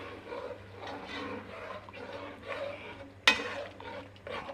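A spoon stirs braising lamb shanks in Shiraz wine inside a pot, giving a steady wet churning and low bubbling, with one sharp clink of utensil against the pot partway through.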